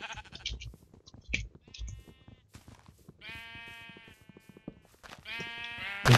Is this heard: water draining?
no